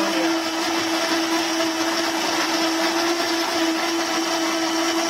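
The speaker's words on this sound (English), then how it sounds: "The reason why I want to use a blender rather than just chopping it up is for texture and to mix it all together." A Cuisinart Hurricane Pro blender running at full speed, a loud, steady high-pitched whir with a constant motor hum, close and unbroken throughout, with no talk.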